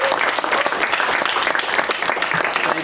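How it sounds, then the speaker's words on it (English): A high school audience applauds a civil liberties panel with a steady, full round of clapping that stays loud and even throughout. "If we can give our panel a round of applause."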